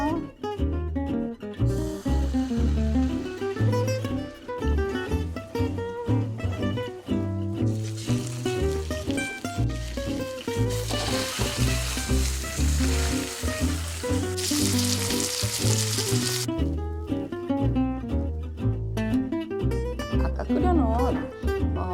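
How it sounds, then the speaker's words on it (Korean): Oil hisses and sizzles as salmon fries in a pan, a steady crackle beneath background music and a voice talking throughout. "기름을 두르고 구워보도록 하겠습니다"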